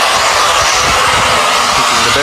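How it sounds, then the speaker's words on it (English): A Bissell vacuum cleaner sucks sand out of an emptied Dyson Ball Animal bin, giving a loud, steady roaring whine with rattling grit, continuous throughout. "So let's vacuum the sand out."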